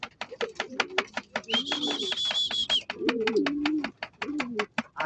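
Pigeons coo in a loft, their low throaty calls rolling over repeated sharp clicking taps, with a bright whistle-like tone partway through.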